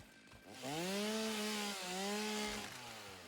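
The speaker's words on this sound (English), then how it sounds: "chainsaw seems loud as hell" A chainsaw in the Satisfactory video game revs up loudly and steadily, its engine pitch rising and wavering for about two seconds before dropping back, heard alone and close.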